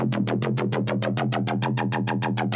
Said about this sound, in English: Here's another phase distortion.